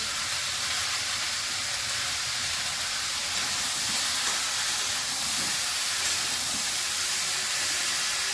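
Spinach curry with bori sautéing in a pan gives off a steady, even sizzle and hiss that holds without a break, with no voices over it.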